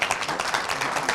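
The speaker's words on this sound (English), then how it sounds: "Let's give them a round of applause." A short burst of applause for panelists at a small-business panel discussion, brisk clapping from a modest audience, close and steady for about a second.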